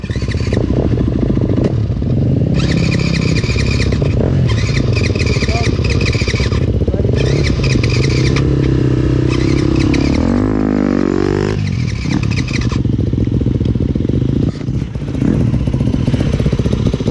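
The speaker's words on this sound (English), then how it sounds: "Let Andrew ride my bike." A motorcycle is ridden close to the microphone, its engine running loud and continuous with shifting pitch, while intermittent rattling and a brief squealing sweep cut through the ride.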